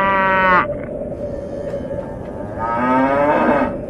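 Cows in a video game moo twice, a long low bellowing call followed after a pause by another, close and loud over a steady background hum.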